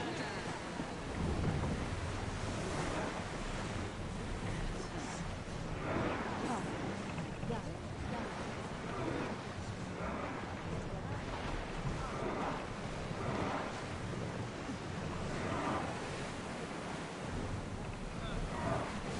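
A ship sailing through ocean waves in Assassin's Creed Odyssey: continuous surf wash and wind noise with rolling swells, steady and moderately loud throughout the long stretch.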